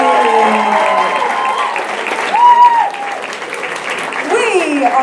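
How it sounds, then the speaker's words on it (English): An audience at an outdoor stand-up comedy show applauds with steady, dense clapping while a voice speaks over it, the applause continuing throughout. "Another round of applause for Jessie!"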